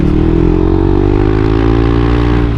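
A Yamaha Aerox 155 VVA scooter being ridden, its engine giving a loud, close, continuous drone with steady harmonic tones that rise slightly as it pulls, with no voices over it.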